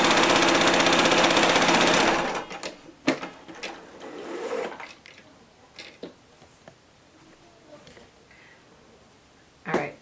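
A sewing machine back stitches mask seams in a loud rapid whir for about two seconds, then stops, followed by scattered clicks and handling taps.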